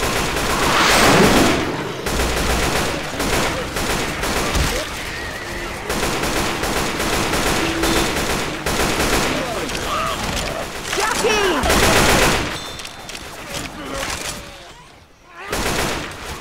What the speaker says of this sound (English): Nick shooting through me.